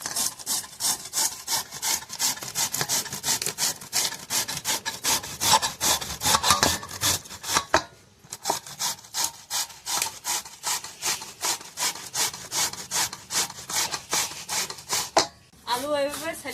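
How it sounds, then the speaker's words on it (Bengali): A peeled potato rubbed against a kitchen grater in steady, rapid rasping strokes, close and loud, with two short pauses partway through. "আলু এইভাবে ছেলে কদ্দুকস করে নেবা"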